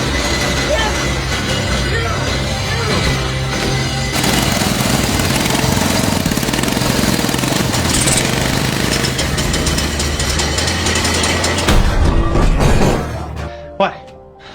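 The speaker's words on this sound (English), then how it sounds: "Harley began to crank the shaft." A first homemade Harley-Davidson motorcycle engine is cranked, producing a loud, continuous mechanical rumble that stops abruptly near the end, followed by a sharp knock.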